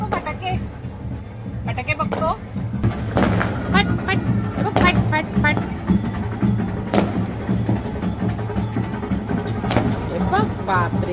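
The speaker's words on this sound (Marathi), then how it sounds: "फटाके बघायला आले बघा वरती" Repeated firework bangs and crackles go off in the distance amid a lively crowd at a Ganesh immersion procession, with people chattering and a voice near.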